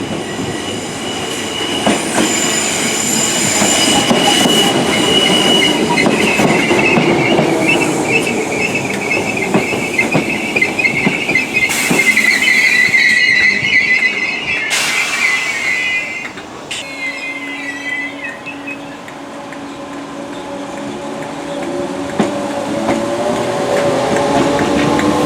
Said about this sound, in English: The train that got off here was the 9:45 from Liverpool Central